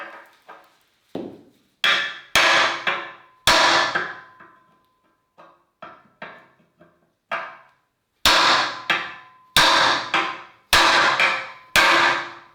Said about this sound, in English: This club hammer is going to decide whether or not we keep a centre stand.